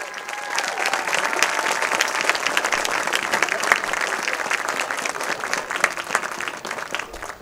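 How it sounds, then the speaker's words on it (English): A crowd at the Red Bay School homecoming before a Red Bay vs Phil Campbell high school football game applauds the 2017 Homecoming Court with dense, steady clapping that holds at an even level for several seconds. "Let us give the 2017 Homecoming Court a generous round of applause."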